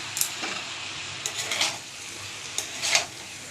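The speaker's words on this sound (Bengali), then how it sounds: "দিয়ে ভালো করে নাড়িয়ে নেব।" Rice for chicken biryani being stirred with biryani masala, rose water and kewra water, a quiet bed of faint sizzle with three brief bursts of utensil scraping and clinking against the pot.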